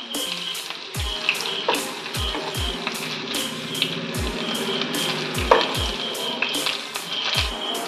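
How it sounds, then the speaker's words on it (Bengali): Onion rings fry in hot oil in a pan, giving a steady crackling sizzle with occasional sharp pops and utensil clinks, close and continuous without talk. "এইভাবে ভেজে নিতে হবে"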